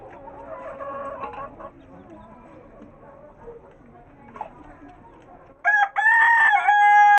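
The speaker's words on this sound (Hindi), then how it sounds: "मुझे ये था कि ये बंद रहेगा और शोर कम मचाएगा, लेकिन शोर फुल मचा रहा है ये।" A pet rooster on a rooftop with chicks, clucking quietly under low background sound before letting out a loud, close, drawn-out crow near the end.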